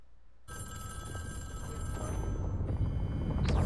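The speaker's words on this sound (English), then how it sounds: "Phone ringing." A telephone rings during a Fortnite Chapter 2 Season 4 live event, starting abruptly after a brief silence and ringing on steadily with a layered electronic tone that grows slightly louder toward the end.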